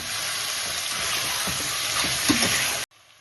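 Chicken sautés with onion and tomato for Pallipalayam chicken gravy, a loud, dense sizzle with scraping stir strokes before it cuts off abruptly into near quiet.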